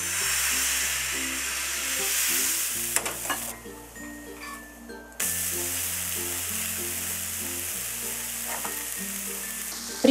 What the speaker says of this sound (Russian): При выпечке блинов сковорода должна быть очень хорошо разогрета.